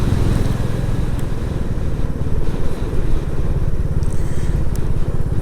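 A Royal Enfield Classic 350 motorcycle ridden on roads in North Wales, giving a steady, throbbing single-cylinder engine note with wind noise, heard continuously and fairly loud with no talk.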